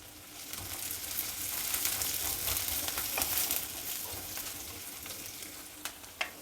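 Sliced onion and three crushed garlic cloves fry in a pan for an old-style eggplant chutney, with a steady, fairly soft sizzle and a few sharper crackles near the end, and no talking.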